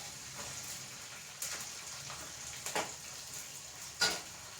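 Ginger and green chillies frying in oil for an Indian-style pickle, a faint steady sizzle with a few sharper crackles and pops standing out, no talking.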